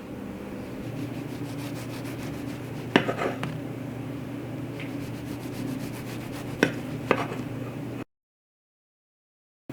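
A knife saws through a loaf of gluten-free teff flour bread, giving quiet, close scraping and rubbing with a few sharp clicks of the blade against a board, then silence.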